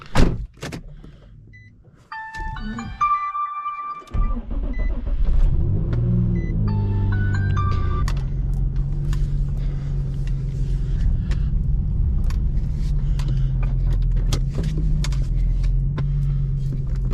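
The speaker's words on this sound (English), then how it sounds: "I'm gonna go ahead and drive it out right now" A 2006 Infiniti G35, just fitted with a new valve cover gasket, has its door handled and its chimes sound before the engine cranks and settles into a steady, close, low rumbling idle as it is driven out.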